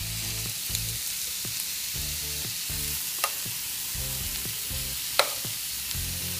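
Strips of meat fry in a hot pan, cooked as part of a quick homemade chili, giving a steady broadband sizzle throughout with a few sharper pops and crackles, close by and with no one talking.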